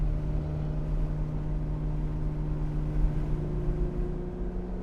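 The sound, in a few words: Porsche 918 Spyder exhaust sound while driving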